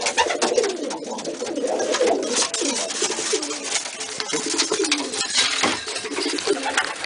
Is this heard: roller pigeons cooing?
yes